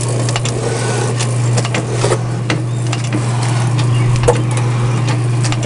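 A Logan metal shaper cuts a workpiece held in a vise, with a steady motor hum under repeated rhythmic clacks and scraping strokes of the ram, close and loud.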